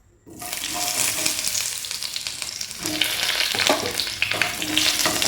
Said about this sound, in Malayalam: അതിലേക്ക് കുറച്ച് തേങ്ങാക്കൊത്തുണ്ട്, അതൊന്ന് വറുത്തെടുക്കാം.